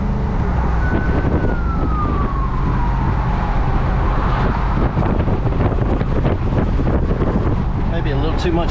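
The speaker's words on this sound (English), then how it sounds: "Too much wind up here." Wind buffeting a Jeep 392 while driving with the windows open, a loud continuous roar with a brief rising-and-falling tone like a distant siren partway through.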